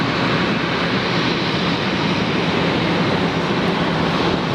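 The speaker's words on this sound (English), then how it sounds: "Qantas 51, that'll be off to Singapore" A Qantas airliner departing Brisbane Airport for Singapore, its engines a loud, steady broadband roar that holds constant and close throughout, with no voices.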